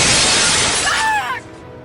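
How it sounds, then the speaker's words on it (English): Glass containment units shatter in a sharp, loud crash of breaking glass, bright tinkling fragments ringing out for about a second before quickly dying away. "The containment units shatter."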